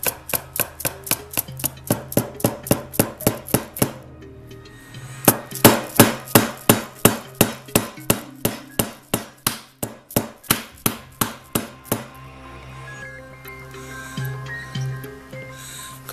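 Hammer striking a chisel into wood while mounting a vise on a workbench, loud rapid rhythmic blows in two long series with a brief pause between.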